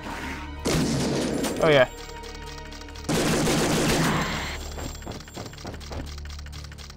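A shotgun fires in the top-down shooter Shadowgrounds Survivor as heavy, booming blasts, each trailed by clattering debris and echo. A voice speaks briefly between the shots.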